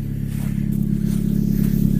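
A Jeep XJ with an exhaust leak makes a loud, steady, plane-like low engine drone with a rough, pulsing rumble, idling or revving gently and continuous throughout.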